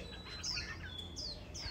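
A songbird chirps in short, bright, repeated tweets, fairly close and clear, over a low steady background hum.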